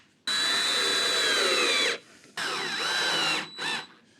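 Power drill boring pilot holes for screws in a wooden toolbox board, three loud close bursts of whining motor and bit, a long first run then two shorter ones with brief pauses between.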